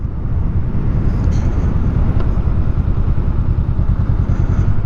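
A 2017 Honda Rebel 500 motorcycle on the road, its engine a steady, loud low rumble throughout, mixed with wind buffeting and no talk.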